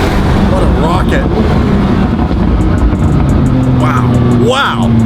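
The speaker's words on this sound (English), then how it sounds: "Driving off into the sunset in the 720 GTR build. Making some noise." A McLaren 720 GTR build roars loudly and close, the engine rising in repeated sweeping pulls as it accelerates away, with a tonal whine climbing through each gear and a constant heavy rumble.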